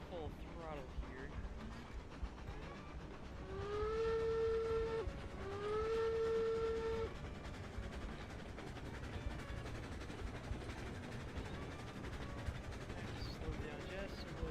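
A steam train in Railroads Online chugs along at full throttle, a steady rumbling run broken by two long, loud whistle blasts midway, while a voice talks over it.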